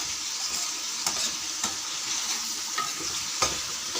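Chicken cubes stir-fry in a hot pan for Chinese rice, a steady broadband sizzle with sharp scrapes and stirring clatters at irregular intervals, close and continuous with no talking.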